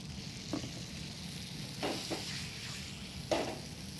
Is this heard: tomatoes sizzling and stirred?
yes